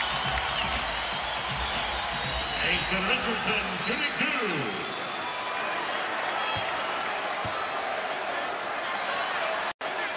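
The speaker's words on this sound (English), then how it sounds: "This Amway Center crowd is absolutely loving it." An Amway Center basketball crowd at a Knicks–Magic game roars in a broad, steady wall of noise, with scattered claps and court thumps, underneath continuous play-by-play commentary.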